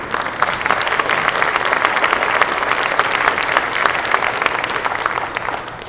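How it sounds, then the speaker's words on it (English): Steady applause from a room full of people at an energy summit, sustained clapping at an even level for several seconds with no talking. "I saw somebody getting ready to clap. That's clap worthy."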